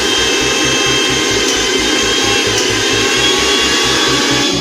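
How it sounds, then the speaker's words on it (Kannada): A 750 watt kitchen mixer grinder runs on a solar UPS inverter with a steady loud whirring drone and a pulsing low hum, continuous and close with no voices. "ಇಲ್ಲಿ ಮಿಕ್ಸಿ ಆನ್ ಮಾಡಿಸ್ತೇನೆ, ಆನ್ ಮಾಡಿ ತೋರಿಸ್ತೇನೆ. ಇದೊಂದು 750 ವ್ಯಾಟ್ನ ಮಿಕ್ಸಿ ಇದು."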